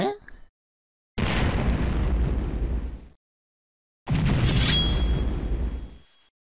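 Two loud, sustained explosion blasts from a bomb in the video game Deathtrap Dungeon, each roaring for about two seconds with a rumbling tail, separated by silence.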